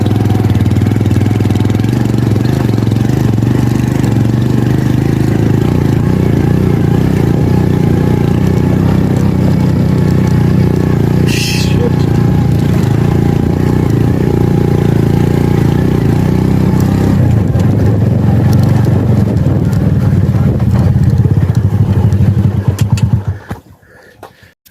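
A motorcycle engine churns steadily on a sandy track, a loud, close, continuous mid-pitched drone with slight variations in load, cutting off abruptly near the end.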